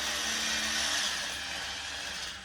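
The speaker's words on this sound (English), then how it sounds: "So cutting them loose with a drill" A power drill runs steadily, whining close and loud as it cuts into old wooden chairs being taken apart, then tapers off slightly at the end.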